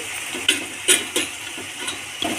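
A spoon stirs turmeric and salt into a sizzling potato mutton curry, several sharp scrapes and taps against the pan over a steady frying hiss.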